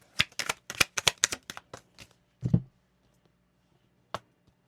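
Tarot cards being shuffled in a rapid run of crisp riffling bursts, then a short scrape as cards are drawn, followed by quiet and one last sharp card snap.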